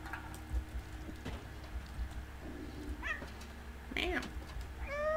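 A cat character meows several times in the video game Stray, short rising cries in the middle and end of the clip over quiet game ambience, with no clear talk over it.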